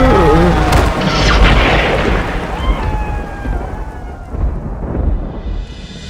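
Heavy rain and rolling thunder in a Hindi horror animation about a haunted train at a closed station, with a deep boom early on and a steady wash of rain throughout, loud and close.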